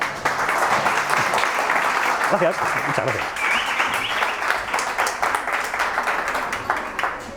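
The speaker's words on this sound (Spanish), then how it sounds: "damos un aplauso a Gonzalo." A lecture audience applauds a speaker introduced at a talk on the hydrogen ecosystem and its implementation; steady, dense clapping fills the room while a voice briefly thanks them over it.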